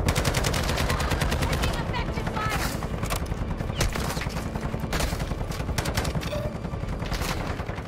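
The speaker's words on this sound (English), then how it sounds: "Why are they shooting a dead body?" Dense gunfire in the video game Warzone, rapid automatic bursts and sharp shots layered throughout, loud and continuous, with players talking over it.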